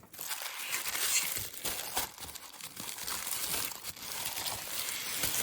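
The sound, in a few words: unwrapping a beading calendar from its packaging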